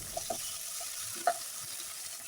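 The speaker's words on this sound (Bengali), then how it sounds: "তো মশলাটাকে কিছুক্ষণ নেড়ে চেড়ে কষিয়ে নেব আমি।" Garlic and cumin spice paste is stirred and fried in a pan, giving a quiet, low sizzle with a few soft scrapes and taps of the spoon, one a little sharper than the others.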